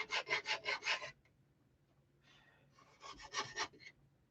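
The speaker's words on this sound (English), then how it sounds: "I think I need some more sandpaper on this stick." Sandpaper wrapped on a stick rubbed back and forth over wood, a rasping scratch in two bursts of about five quick strokes each, separated by a quieter pause, close-up and fairly faint.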